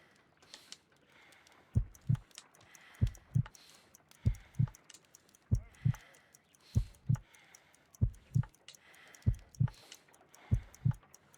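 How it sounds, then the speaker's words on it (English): Heartbeat in the video game Sherlock Holmes: Crimes & Punishments, a slow, steady lub-dub pulse repeating about every second and a quarter, with faint ticking clicks above it. "I need to concentrate and count the heartbeats."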